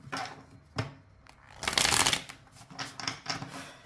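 Tarot cards are shuffled in short papery riffles and flutters, with a louder burst in the middle and lighter flicks after, close and clear with no talking.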